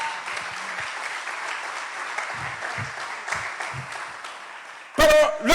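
A congregation claps loudly and steadily during a church sermon, a dense crowd of hands at fairly close range, with brief voices underneath and a sudden louder burst of cheering and sound near the end.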